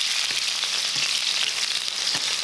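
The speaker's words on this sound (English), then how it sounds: "that's sort of essentially deep frying the mushrooms" Steady, loud sizzling and crackling of mushrooms deep frying in hot oil for a stir fry, with a few soft stirring knocks and no voices.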